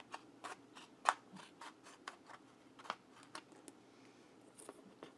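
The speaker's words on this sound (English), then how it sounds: "I'm going to cut these. Gonna cut them wide." Scissors snip through zipper pull material in a quick series of sharp, close cuts, roughly a dozen crisp clips spaced irregularly, with no talking.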